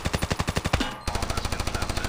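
Rapid, loud bursts of automatic gunfire in the mobile shooter game Standoff 2, in a steady rhythm, a brief pause near the middle, then a second sustained burst of rapid shots.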